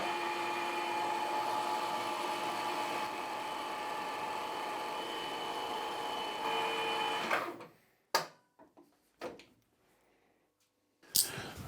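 A metal lathe turns a dual contact taper gage to clean off discoloration, giving a steady whirring hum for several seconds. It then spins down, followed by a few sharp handling clicks and knocks in near silence.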